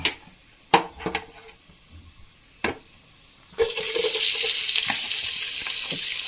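A few light clinks and taps in a quiet kitchen give way to a sudden loud, steady sizzle as sliced onions hit hot oil with a bay leaf in a pan for mushroom biryani.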